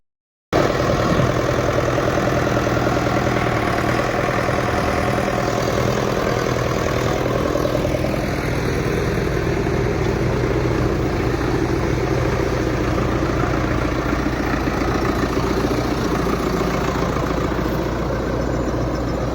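A tractor engine starts and then idles with a loud, steady low rumble that carries on for nearly twenty seconds, changing a little partway through. No one speaks.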